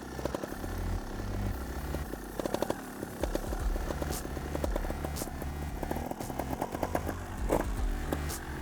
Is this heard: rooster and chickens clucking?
no